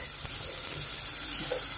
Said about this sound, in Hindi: यहाँ मैंने अब दाल का तड़का तैयार कर लिया है एंड मैंने दाल में तड़का लगा दिया है